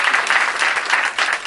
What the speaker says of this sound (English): Give a round of applause for our St.